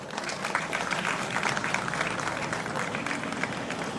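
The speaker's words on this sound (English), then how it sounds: "Please give them a round of applause" An audience at an outdoor band performance claps steadily, a dense, continuous applause with crowd murmur mixed in.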